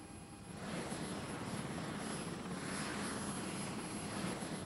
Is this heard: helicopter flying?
yes